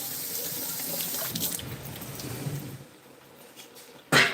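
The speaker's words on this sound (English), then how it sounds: "So I'm going to rinse them in my sink for like a few seconds." Water from a kitchen sink tap runs steadily over canned chickpeas being rinsed, a continuous close splashing gush that fades briefly before a sharp burst of spray near the end.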